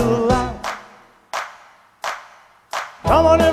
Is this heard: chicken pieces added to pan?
no